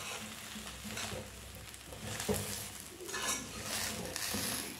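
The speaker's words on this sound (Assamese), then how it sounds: "এইখিনি এতিয়া মই ভালকৈ লৰাই ল'ম" A spice mix for Assamese elephant apple pickle is stirred in a pan over low gas, making a continuous frying hiss with scraping and light clinks from the utensil.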